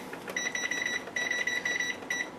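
Kitchen timer being set while cooking sauerbraten, giving a quick run of high electronic beeps in short bursts with brief gaps, close and clear over faint kitchen background.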